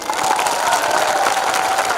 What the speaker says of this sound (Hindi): ताली दीजिए इनको।